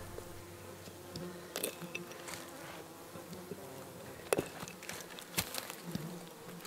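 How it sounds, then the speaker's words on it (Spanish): Bees buzz defensively around their brood in the countryside, a low steady hum with several sharp close passes flaring up over faint background ambience. "las abejas defienden el territorio"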